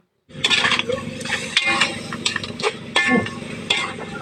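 Crabs and shrimp frying with garlic and butter in a wok, a close crackling sizzle under clattering stirring and scraping of a utensil against the pan.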